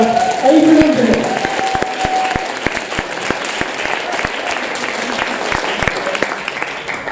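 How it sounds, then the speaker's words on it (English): An audience at a teacher training day in Toruń applauds to welcome a speaker, with steady dense clapping filling the room for several seconds, a few louder claps standing out and some brief voices early on. "Please, big round of applause for Mr. Pronunciation himself, Adrian Underhill."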